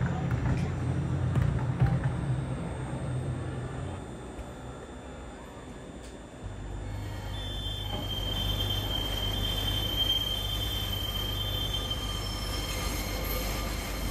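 A model LNER Azuma train runs steadily with a continuous rolling rumble, a low hum and a high whine, and the tone shifts partway through as the running sound changes.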